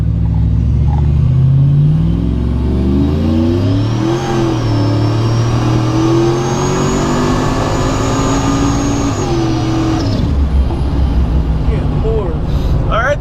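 Procharged Chevrolet Trailblazer engine accelerating hard, rising through the gears with a loud rumbling exhaust and a climbing supercharger whine, with voices talking over it inside the cabin.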